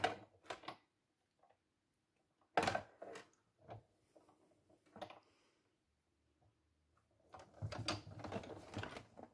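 Card paper for a handmade greeting card being cut by a machine, quiet bursts of mechanical whirring and clicking separated by pauses, then a longer run of rapid rattling near the end, close and faint.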